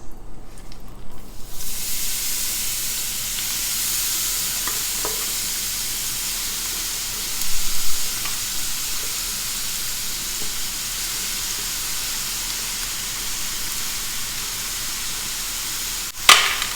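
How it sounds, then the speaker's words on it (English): Vegetables sizzle and fry in hot beef tallow in a pan for Asian dumpling filling, a steady loud broadband hiss with occasional stirring clatter and a sharp clank near the end. "Our tallow is sizzling away there."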